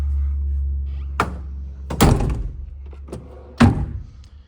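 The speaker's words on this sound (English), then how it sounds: "Door hinges shut well." The door of a 1993 Toyota Land Cruiser 70 Series KZJ73 with an FRP removable top shuts with solid metallic thunks, three or four close knocks and a firm final slam over a low idling rumble.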